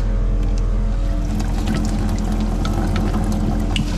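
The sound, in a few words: water vending machine pouring out water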